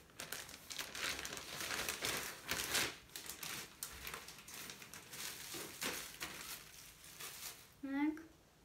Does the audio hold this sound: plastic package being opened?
yes